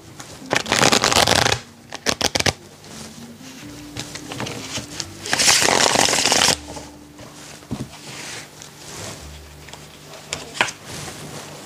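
Tarot cards being shuffled in loud, dense bursts of riffling and patter, with a long flurry near the start and another in the middle, separated by quieter rustling and brief taps.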